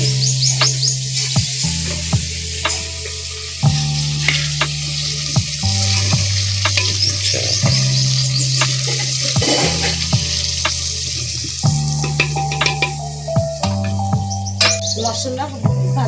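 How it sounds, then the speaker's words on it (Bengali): Masala spices fry in a pot for Bengali-style handi chicken, with a continuous sizzle and repeated scraping stirs of a spoon against the metal. Low humming tones run beneath the frying throughout. "মশলা ভাজা ভালো মতন হয়ে গেছে"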